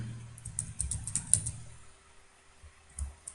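PHP code being entered on a computer keyboard yields a quick flurry of close key clicks for about a second and a half, then near silence before a couple of final taps.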